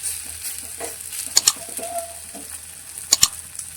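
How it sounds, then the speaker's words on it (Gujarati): Batter spooned into a pan with a little oil and cumin sizzles softly and steadily, with a few sharp clicks and faint bird calls in the background. "ફરી આપણે 1 ચમચા જેટલું બેટર અંદર લઈ"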